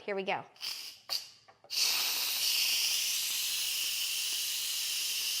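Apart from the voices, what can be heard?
pressure cooker venting, steam and pressure being released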